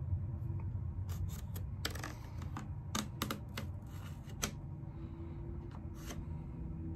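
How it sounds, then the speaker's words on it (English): A pencil scratches against a wooden board while tracing a shape, giving close, dry scraping strokes in short irregular bursts over a low steady background hum. "Take a pencil and trace the shape around on your wood."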